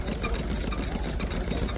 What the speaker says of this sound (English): You remember the little odds and sods engine? There's another one there.